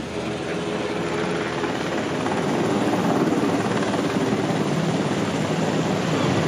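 A helicopter's rotor thumps loud and steady overhead near a construction site, a dense continuous roar that swells slightly as it passes.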